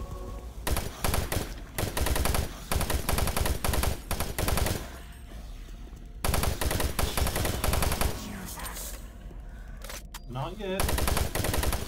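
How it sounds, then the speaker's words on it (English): Rapid automatic gunfire from a weapon in the video game Doom 3, in loud sustained bursts with short pauses, along with game effects and someone speaking briefly. "Yeah, I'll use this gun."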